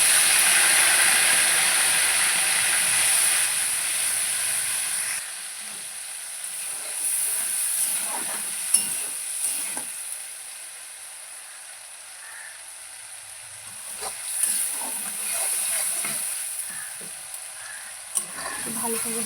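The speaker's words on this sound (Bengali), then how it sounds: "ভালো করে ভেজে নিতে হবে, আবার গন্ধটা যেন না থাকে।" Ginger and green chili paste sizzles and hisses steadily in a hot pan while cooking a vegetarian flat bean dish, with occasional stirring scrapes; the frying is loud at first, then eases to a softer, steady crackle.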